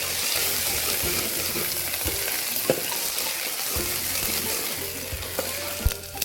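Onion already fried red sizzles in a pan with garlic, ginger and chili paste as it is stirred for a mutton curry, a steady dense crackle with occasional scraping knocks, close and alone.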